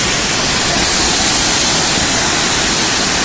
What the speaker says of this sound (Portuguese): chegamos aqui na Cachoeira do Funil. Olha a cachoeira, cara.